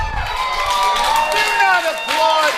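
A studio audience at a game show erupts in cheering and applause, with mixed excited voices shouting over clapping, loud and close throughout the short burst.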